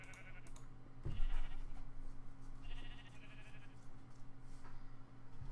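Sheep in Minecraft bleat several times in short game-sound cries spread across a few seconds, over a steady background hum, with no talking.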